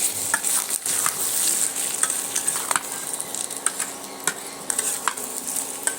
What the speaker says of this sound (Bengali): এবার আমি খুন্তি দিয়ে সুন্দর করে এখানে কষিয়ে